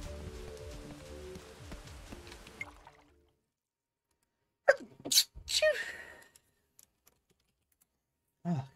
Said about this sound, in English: Oh, I got the sneezes.